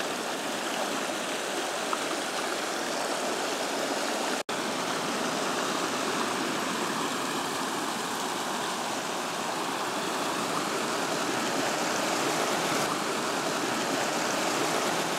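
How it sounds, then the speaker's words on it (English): A small river in Jotunheimen National Park rushes between two mountain lakes, a steady, close, full roar of flowing water that holds at an even loudness throughout with no voices. "small river, which goes over to the next lake."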